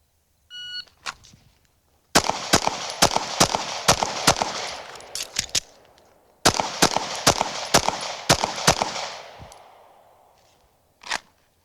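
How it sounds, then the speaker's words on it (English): Gunfire from an El Presidente shooting drill: a short timer beep, then two fast strings of about eight or nine sharp, loud shots each, split by a brief pause, and a single late shot at the end. "let's go ahead, get our ears on, and let's shoot it."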